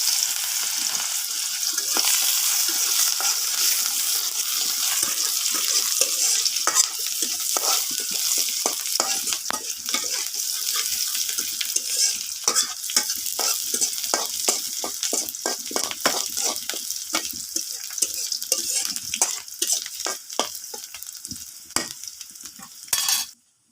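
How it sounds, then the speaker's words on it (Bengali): Onions sizzling loudly as they hit hot oil, a dense crackling fry with frequent sharp pops and stirring scrapes over a continuous hiss, close and without speech, ending abruptly. "তেল গরম হয়ে গেছে, পেঁয়াজ দিয়ে দিলাম।"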